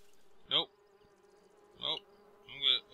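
Bees buzz in the video game Lakeview Cabin, three short, sharp buzzing bursts spaced about a second apart, fairly loud against a quiet low hum.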